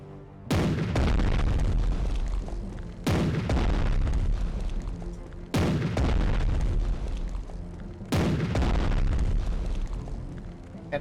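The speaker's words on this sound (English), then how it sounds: "All these fancy new carriers will not replace good old 400mm naval guns." Four heavy 400mm naval guns fire in Strategic Mind: The Pacific, each a loud, deep boom followed by a long rumbling decay, spaced about two and a half seconds apart with no other sounds.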